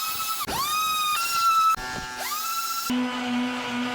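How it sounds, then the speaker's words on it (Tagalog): Power sander working on an old wooden study table, a high whining motor that repeatedly spins up and shifts pitch as it bears on the surface, close and loud without talk. "Lihain na din natin ang tabletop, pati na din ang mga kasamang parts nito."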